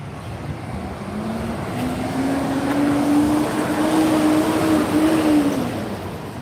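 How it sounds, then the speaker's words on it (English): A car turning into an alley, its engine tone rising and steadying as it approaches at moderate distance over a broad background rumble, with no one talking. "We got a car turning in."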